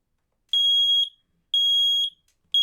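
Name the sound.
smoke alarm going off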